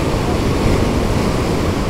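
Large storm waves surge and break on a secluded beach near Fiolent in Crimea, a continuous loud roar of rushing water and wind noise with no pause.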